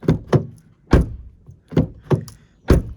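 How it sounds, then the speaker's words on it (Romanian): A series of heavy, solid thuds close by as the door of a Dongfeng DFSK Fengon 5 SUV is shut several times in a row with short pauses between. "hai să vedem cum se închide ușa"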